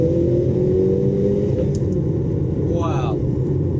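A 2020 McLaren GT fitted with a titanium exhaust and remap accelerates on the road, a steady loud engine drone and rumble under road noise, heard from inside the car.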